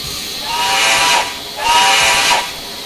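Two long, breathy steam whistle blasts from a 0-6-0 switcher locomotive in the Trainz video game, each about a second, with a hissy, airy tone and a short gap between them; no voices.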